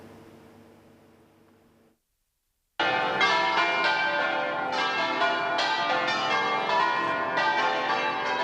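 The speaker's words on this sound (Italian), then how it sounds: "Le campane a festa accolgono il feretro davanti alla chiesa parrocchiale." Church bells peal festively outside a parish church in Tezze as a coffin arrives, a dense, loud clanging of several bells after a brief fading tone and a moment of silence.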